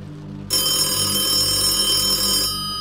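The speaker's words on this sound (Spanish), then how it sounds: "sonó el teléfono en el negocio" A shop telephone on a desk rings loudly and steadily for about two seconds, a bright, continuous bell-like trill that stops abruptly, heard alone without voices.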